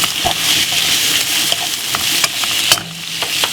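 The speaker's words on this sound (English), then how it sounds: "Give it a nice little stir." Ingredients for a stir-fried cabbage sandwich filling being stirred in a hot pan produce a loud, continuous sizzle up close, broken by irregular scraping taps of the spoon against the pan, with no voices.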